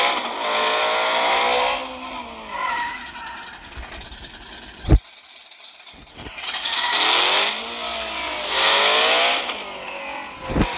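Chevrolet El Camino pickup launching and accelerating hard in drag-racing runs, its engine revving loud and rising through gears in repeated surges, with a brief pause between pulls.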